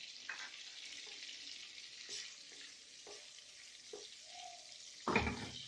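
Bay leaf, cinnamon, cloves and small cardamom tempering in hot oil for a Bengali prawn malai curry, a soft, quiet sizzle with light clinks and a louder crackle at the end, without speech.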